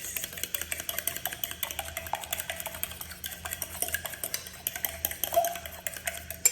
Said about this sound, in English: And now I'm gonna mix it up really well